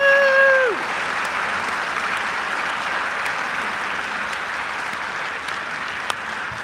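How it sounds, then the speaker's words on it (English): Sustained applause from a concert audience for a choir and its soprano and countertenor soloists at a Messiah sing-along in Chicago, a dense, steady wash of many hands clapping that carries on without pause, with a sung or held note fading out at the start. "Would you please give them a round of applause?"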